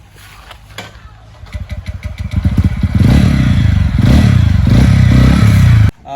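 A TVS Ronin motorcycle engine cranks with a few uneven catches, then fires and settles into a loud, steady, close-up idle that runs until it cuts off abruptly near the end.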